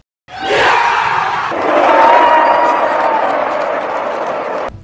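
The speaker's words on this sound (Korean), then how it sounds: "한국 관중석은 뜨겁게 환호하고" A large crowd roars and cheers from stadium stands in an animated battle between gods and humans, with loud, sustained massed shouting that swells and holds for several seconds.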